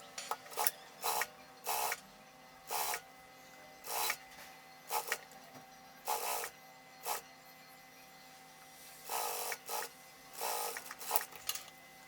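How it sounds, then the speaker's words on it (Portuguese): An industrial straight-stitch sewing machine runs a topstitched seam on a square-neck shirt, in short bursts of rapid whirring, each a second or less, separated by quiet pauses, close and clear with no speech. "E agora eu vou lá pra máquina reta passar uma costura aqui"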